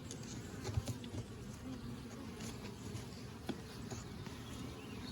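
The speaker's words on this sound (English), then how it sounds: "actually the bees are capping it now" Honey bees swarm around an open beehive, making a continuous, faint, dense buzzing hum from many insects at once, with no talking.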